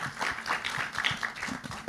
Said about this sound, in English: A quick round of applause for all the panelists today.